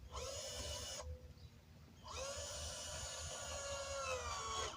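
A small, cheap Hypertech cordless drill whines at high pitch, stops for about a second, then spins up again and runs steadily, close by.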